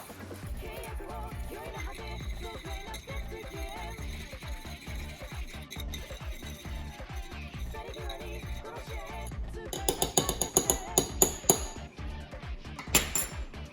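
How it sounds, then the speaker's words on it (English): A spoon stirs gyoza dipping sauce in a bowl with soft, rhythmic scraping and swishing, followed by sharper clinks of metal against the bowl near the end, all close by and fairly quiet. "I'm gonna take my gay little spoon, and I'm gonna stir it all up until it's all coherent"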